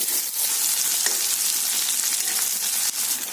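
Sliced onions fry in hot oil for chicken curry, a loud, steady close-up sizzle with constant crackle and no voices.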